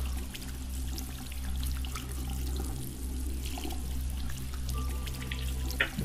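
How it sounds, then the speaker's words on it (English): A shower runs steadily, giving a continuous rushing hiss of falling water with a low hum beneath it, constant throughout with no talking. "Taking a shower."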